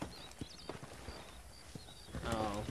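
Horse hooves clip-clopping in Red Dead Redemption as a rider moves freely near a fence, an irregular stream of hoof knocks under game ambience, with brief talk and a louder burst near the end.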